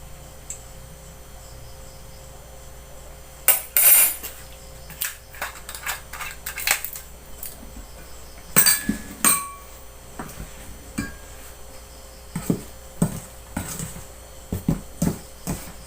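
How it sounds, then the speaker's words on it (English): Pizza dough ingredients and virgin olive oil are mixed in a bowl, heard as irregular clinks, taps and scrapes of utensil against bowl, in scattered bursts with quiet gaps between. "we mix the ingredients thoroughly"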